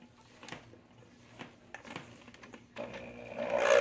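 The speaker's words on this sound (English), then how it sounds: "get my handheld mixer in here to mix everything up" A handheld electric mixer runs on low through meatloaf ingredients, switching on partway in after a few faint bowl clicks and building into a steady whirring hum that grows louder toward the end.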